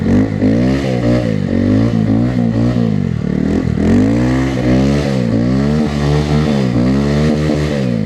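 A Honda Grom motorcycle revs hard again and again on snow while running summer tires, its small engine rising and falling in rapid, loud, close bursts with a buzzing harmonic whine and no talking.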